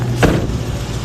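A gas-guzzling vehicle's engine cranks and catches in one loud burst, then settles into a steady, close idle rumble.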